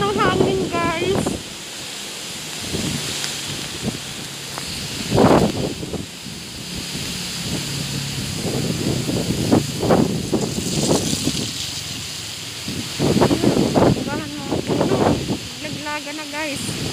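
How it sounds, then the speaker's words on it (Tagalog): Strong typhoon wind gusting through trees during a Signal No. 4 storm in Silang, Cavite, a steady roaring rush with louder surges, while a person talks intermittently over it. "Parang madala ko ng hangin, guys."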